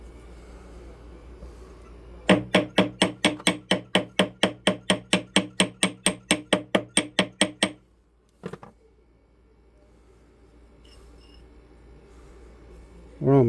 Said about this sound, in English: let me get the ball peen hammer here for a second